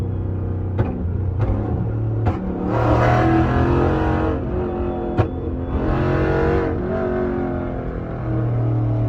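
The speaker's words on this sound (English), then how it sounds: "We finna see if my boy Trey can drift my Challenger on this ramp" A Dodge Challenger's engine revs hard as it drifts on a homemade ramp, loud surging roars rising and falling in several bursts with sharp pops and a deep rumble throughout.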